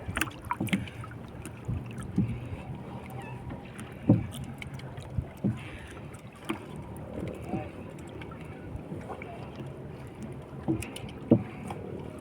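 A small fishing boat is paddled at sea, with rhythmic oar splashes and knocks against the hull up close amid wind and water noise, while someone talks over it.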